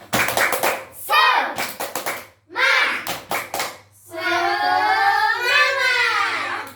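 A Grade 5 Indonesian-language class does a rhythmic spirit clap. Quick groups of sharp, close hand claps alternate with the children's loud chanted shouts, and the sound ends in a long, sustained group cheer.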